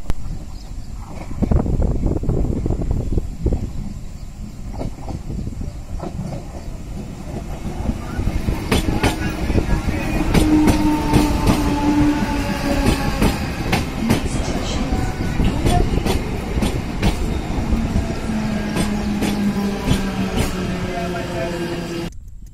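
A Mumbai local train approaching Dolavli station rumbles and clatters continuously over the rails, with rhythmic wheel clicks, rattling carriages and faint high squeals, while a recorded announcement plays in the background.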